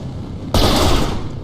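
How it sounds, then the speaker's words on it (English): Gunfire from snipers firing at armored tanks in the retro strategy game 8 bit Invaders bursts in suddenly as a loud, dense, sustained crackle, holding steady for about a second after a quieter lead-in. "Snipers try to take out the tanks"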